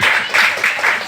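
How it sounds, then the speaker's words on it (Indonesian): Short burst of audience applause at a casual evening talk session in a Surabaya warung, clapping swelling in several waves over about a second, moderately loud with no talk. "Tepuk tangan dong sekali lagi"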